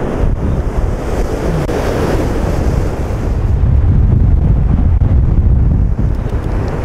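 Heavy storm surf pounding a beach under strong wind buffeting the microphone, a loud continuous roar that swells midway, waves tossing sticks and branches ashore.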